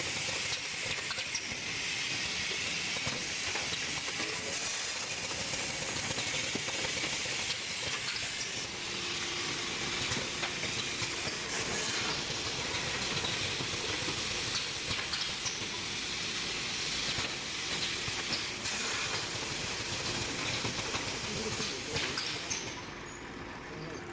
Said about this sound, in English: Heat sealing station with vacuum and nitrogen flush for option.